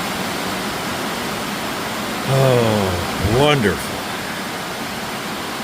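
Heavy monsoon downpour hissing steadily and loudly around a farm feed barn, with a person briefly speaking over the constant wash of rain.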